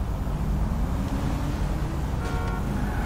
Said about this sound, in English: Oh, there's a lot of cars here.